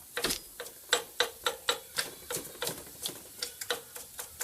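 A Subaru EJ-series power steering pump turned by hand, a steady series of about fifteen close, dry ticking clicks at a regular, slightly uneven pace, with no talking over them.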